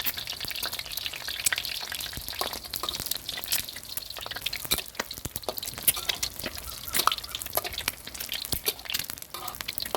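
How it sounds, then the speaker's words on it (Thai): An egg fries in fairly hot oil over high heat, its whites crisping, with dense close crackling, spitting pops and bubbling throughout. "น้ำมันต้องค่อนข้างร้อนนะครับไข่จะได้ฟูสวยนะครับ"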